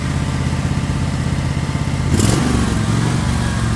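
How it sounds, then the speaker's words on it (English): A DR Power riding mower engine idles steadily at close range in a low, even drone, with a brief louder surge partway through before settling back to idle. "I also wanted to show you what it sounds like when it's idling"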